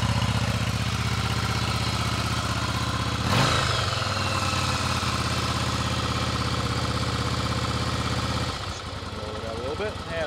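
A 1997 Yamaha Virago 750cc motorcycle with its stock exhaust idles steadily close by after a cold start on a little choke, a smooth, even rumble that shifts slightly partway through.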